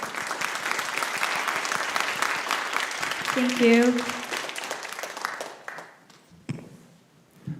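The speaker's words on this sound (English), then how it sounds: "Let's give it another applause." Applause from an audience at a short-film and motion-design animation festival awards ceremony, a dense steady patter of many hands that thins out toward the end while someone speaks briefly over it.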